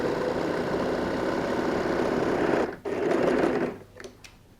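A sewing machine edge stitching along a fold in fabric for a laptop case whirs steadily and close, with a brief pause, a short second run, then stopping to quiet handling noises.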